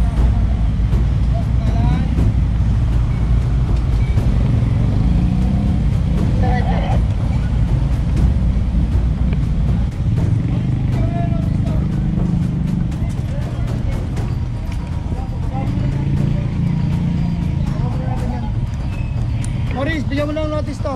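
A utility tricycle among road traffic, with continuous engine and vehicle noise and occasional passing sounds while people talk throughout.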